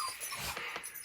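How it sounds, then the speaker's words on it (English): A dog gives a brief, somewhat muffled bark or yelp lasting about a second, heard at moderate volume with no talking over it. "I don't know why my dog is barking."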